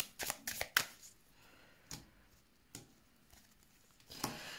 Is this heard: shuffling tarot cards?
yes